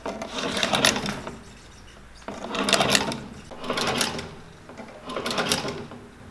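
A patching sewing machine stitches through the original stitch lines on the quarters of asphalt-covered boots, running in four close mechanical bursts of rapid chattering separated by short pauses.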